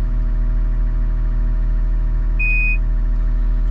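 A Cat 938 wheel loader's steady low engine idle rumbles throughout, and a single short, high electronic beep from its controls sounds briefly partway through.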